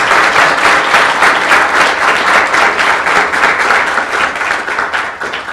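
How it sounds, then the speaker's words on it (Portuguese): Long, loud applause from a conference audience for a group of students, a sustained dense wall of clapping that holds steady throughout with no voices over it. "Foi uma salva de palmas longas."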